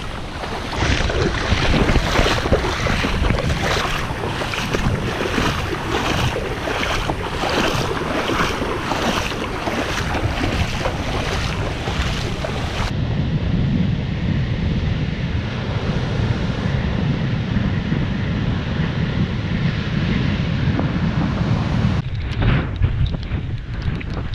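Strong wind blowing at sea, a steady loud roar with buffeting gusts and wash of waves, heavier through the first half and then settling into a lower, rumbling rush.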